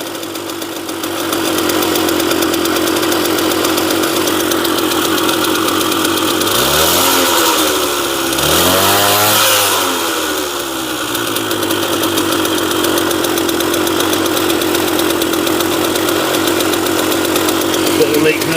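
An engine idles steadily and loudly after its idle setting is adjusted, with a rev rising and falling twice in the middle before it settles back to a constant rumble.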